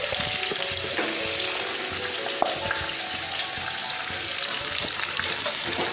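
Potatoes for a vegetarian Kashmiri aloo dum fry in hot oil with a steady, dense sizzle and occasional stirring clinks, close and continuous for the whole stretch with no talk.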